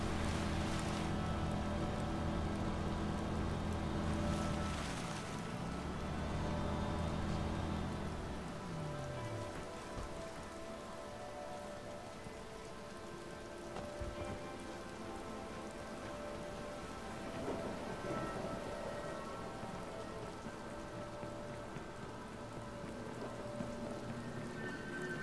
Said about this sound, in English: Oh wow, it's raining.